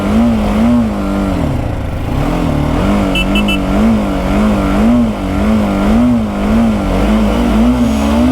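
A BMW G310 GS motorcycle engine drones loud and steady throughout, its pitch rising and falling in waves as the rider works the throttle in a performance run, with no talk over it.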